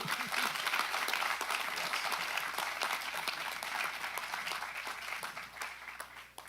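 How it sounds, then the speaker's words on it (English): A crowd applauds warmly at a Sutter County Supervisors meeting, steady clapping that holds for several seconds before tapering off at the end. "let's give a round of applause."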